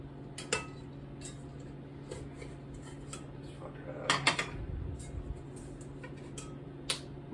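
Stoneware sausage weights set into a bowl over homemade farmer's cheese, a series of sharp clinks and taps scattered across the span, with a denser cluster of knocks in the middle, close and fairly quiet.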